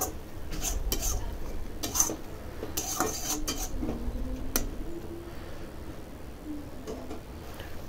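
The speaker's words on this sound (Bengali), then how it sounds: "এবার পেস্টটা ভালো করে এই তেলের মধ্যে দিয়ে নেড়ে চেড়ে নিচ্ছি" Ginger and green chili paste is stirred into hot oil in a pan, heard as scattered metallic clinks and scrapes of a spoon over a low, steady frying hiss.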